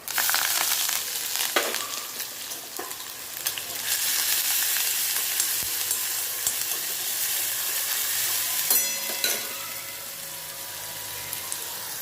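Continuous crackling sizzle of onions and garlic frying in oil, with occasional stirring scrapes and bursts of spattering, close up.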